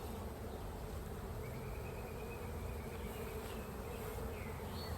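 A honeybee swarm being shaken into a hive gives off a steady, dense buzzing, low and continuous throughout, with the faint whine of individual bees passing close to the microphone.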